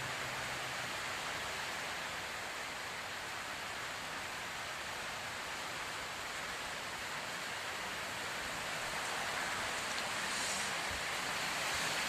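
Rain falls during sunshine near a hill temple, a steady dense hiss of drops that stays even and fairly soft throughout.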